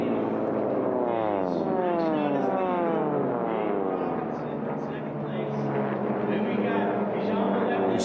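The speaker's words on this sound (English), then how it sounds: "those supercharged, turbocharged motors just sound beautiful here on Sunday morning" Droning supercharged and turbocharged racing airplane engines whine and shift pitch as they pass, a loud sustained roar with rising and falling tones.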